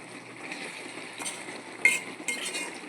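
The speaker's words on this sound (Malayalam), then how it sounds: "ചിക്കൻ ഇതാ ഇവിടെ കിടന്ന് ഇങ്ങനെ വരട്ടി എടുക്കണ ചിക്കൻ" Chicken is stir-fried dry in a pan on a wood-fired stove: soft, continuous sizzling with light scraping of the spoon, plus a couple of slightly sharper stirring scrapes toward the end, and no talking.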